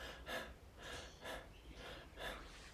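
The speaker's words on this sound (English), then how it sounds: "Dysfunctional breathing is suboptimal. This is short, shallow, through the mouth, upper chest, loud, almost like." Short, shallow, loud mouth breathing into the upper chest, shown as an example of dysfunctional breathing: three quick rasping breaths spaced about a second apart, close and clear with no talk.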